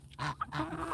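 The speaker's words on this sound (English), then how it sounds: "I've got a chicken perching on me." A chicken perched on a person's back gives a few short, close clucks over roughly a second, with no speech.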